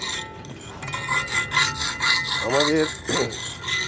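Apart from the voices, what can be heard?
rubbing down a damaged wooden round table top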